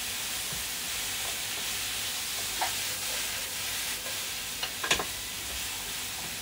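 Cucumber stir-fries in a pan with a steady soft sizzle, and a few faint clinks and scrapes of stirring break through now and then.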